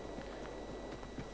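Soft, steady hoof clip-clops of a horse walking at an even pace, fairly quiet and close, with no talking, in the video game Tavern Manager.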